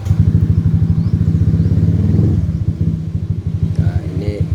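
A small motorcycle engine idles close by with a steady, chugging low rumble after being started, fitted with a new Koso RX3N digital LED speedometer on a Honda Monkey; someone speaks briefly near the end as the idle continues.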